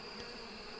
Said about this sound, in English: Common bee, common bee, common bee.